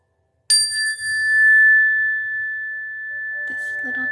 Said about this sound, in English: This little chime is small and mighty.